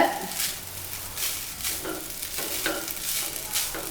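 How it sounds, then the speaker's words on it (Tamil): A spatula stirs vegetable fried rice in a hot pan, giving a soft steady sizzle with a few scraping, tossing strokes at an even pace, close and fairly quiet, with no one speaking. "இப்படி கிளறி விட்டுக்கலாங்க"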